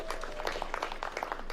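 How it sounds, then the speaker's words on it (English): Audience clapping at a live results announcement, a soft, fairly distant patter of hands with scattered louder claps, continuing steadily for a moment. "You can see even you are clapping more."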